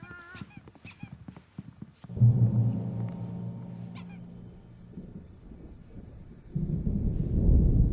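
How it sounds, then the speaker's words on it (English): Low rumbling thunder of an approaching storm in the video game Alan Wake, a deep rolling swell that fades and returns louder, following a patter of faint tapping sounds. "There's a storm coming. Oh, what a storm."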